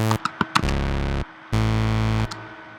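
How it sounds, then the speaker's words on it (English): A raw sawtooth synth tone sounds in a couple of sustained buzzy notes after a few short stabs, loud and unaccompanied. "opened up sine wave, or a saw wave,"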